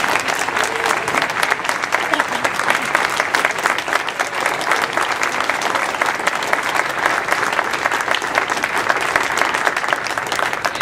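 A full round of applause from a seated audience honoring a retiring man at a farewell, steady dense clapping that fills the whole stretch, loud and close with no break.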